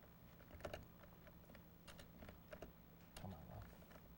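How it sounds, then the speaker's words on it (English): Typing on a computer keyboard in Microsoft Word, a quiet, irregular run of clicking keystrokes in short bursts, with a faint steady hum underneath. "And so I'm going to go and hit Tab and begin typing in here."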